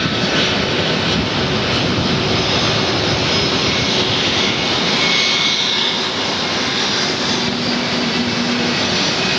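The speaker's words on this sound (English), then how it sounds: "Then the little itty bitty regional jet, the Boeing regional jet." A Boeing regional jet passes during plane spotting at Atlanta's airport, its engines a loud, steady roar that holds throughout and swells slightly midway.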